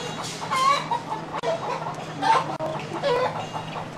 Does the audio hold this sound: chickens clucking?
yes